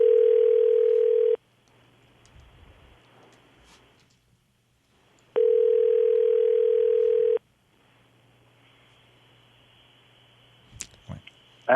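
A telephone rings twice in a room, each long steady electronic tone lasting about two seconds with quiet pauses between, followed by faint rustling and a click.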